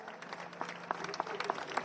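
Dense applause from an audience at an Italian book presentation, steady and fairly close, with a few sharper individual claps standing out near the end; no speech.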